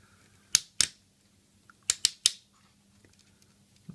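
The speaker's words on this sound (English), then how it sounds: "his head does turn, so it's quite clicky" A Toyworld Brainwave Transformers-style toy robot's head joint gives two sharp plastic clicks, then, after a short pause, three more in quick succession, close and crisp against a quiet room.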